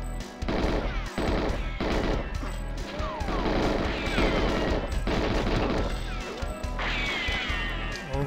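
Rapid gunfire and crashing impacts from the Nintendo 64 shooter GoldenEye 007, a dam level played on 00 Agent difficulty, with dense bursts of shots and clatter running almost continuously for several seconds, loud and close, with no talking.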